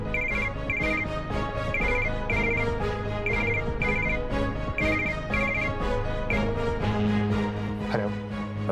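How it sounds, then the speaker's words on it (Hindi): A telephone rings repeatedly in a regular electronic pattern, loud and close, with no voices. "रोहित ने अपनी कंपनी के IT हेड सैम को फोन लगाया।"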